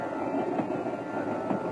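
A small branch-line train crawls along, giving a steady, dense rumble and rattle that stays even and close throughout, with no voices.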